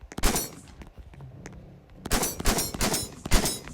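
A Benelli shotgun fires in the Roblox game ERLC, rapid sharp blasts in two clusters, close and punchy, with no talking over them.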